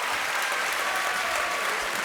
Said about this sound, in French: Applaudissements du public.